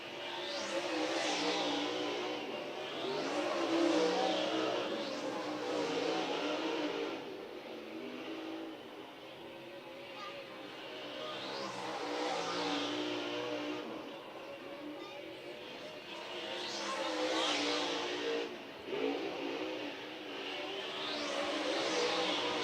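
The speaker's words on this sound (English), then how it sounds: "So the cars will get up to speed." A field of 22 super late model race cars speeding up on the Waycross Motor Speedway track on opening night, with engines roaring in repeated swells as cars pass, heard from trackside.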